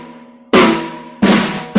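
Three loud, close strikes on a snare drum with the snares taken off, each a short open thump that rings briefly; the first is preceded by a low, steady hum.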